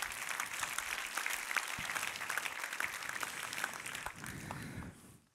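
A church congregation applauding during a French sermon on healing, a soft, distant patter of many hands clapping steadily before thinning out and fading near the end.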